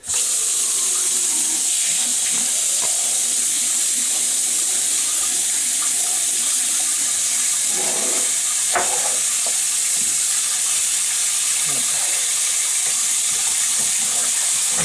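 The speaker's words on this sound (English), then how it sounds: "Start the water." Water gushes steadily from a faucet into a sink, a loud, constant hissing rush with occasional faint clunks underneath.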